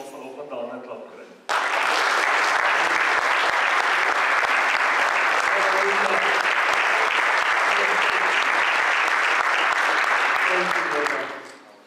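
A church congregation applauds for a birthday with sustained, loud, even clapping for about ten seconds after a brief spoken lead-in, then tapers off.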